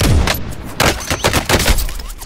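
Video game gunfire during an attack: dense, loud rapid-fire shots in overlapping bursts that run through the whole stretch, with no talking over them.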